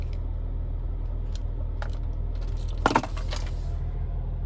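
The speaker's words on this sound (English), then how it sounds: "here's the key fob with remote start" Cadillac CT5-V key fob with remote start jingling and clinking as it is handled up close, a few light taps followed by a brief burst of jangling in a quiet car interior.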